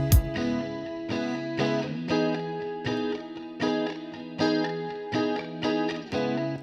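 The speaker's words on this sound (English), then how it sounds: "playing the electric guitar and running it through Guitar Rig, which is a virtual instrument, or not an instrument, but an amp" Clean electric guitar played through a Guitar Rig virtual amp with a phaser, giving a swirling, dreamy tone; rhythmic strummed chords repeat at moderate volume with no voices.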